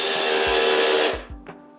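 A power drill driving screws into pre-made holes while a hanging TV console is built, a steady loud whir that stops abruptly, followed by a few small clicks and knocks.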